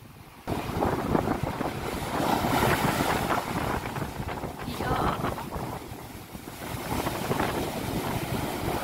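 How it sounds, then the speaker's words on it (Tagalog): Strong typhoon wind buffets the microphone while large sea waves crash and surge nearby, a loud rushing roar rising and falling after a quiet start. "Galit na galit yung dagat ngayon. Sobrang lalaki ng alon."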